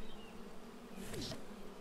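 Bees buzz in the video game Party Maker, a steady, close insect drone that swells briefly near the end.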